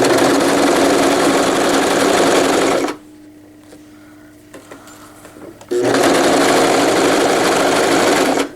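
A sewing machine stitching a seam with a 1/4 inch seam allowance runs fast and loud, stops for a few seconds of quiet, then whirs again at full speed, forward then backward.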